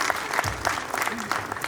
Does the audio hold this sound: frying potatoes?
no